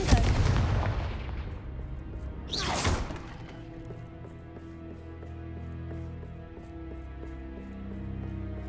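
A Confringo blasting spell goes off in Hogwarts Legacy: a sharp, loud burst with a bright crackling sweep, after which a low rumble and game ambience hang on for several seconds.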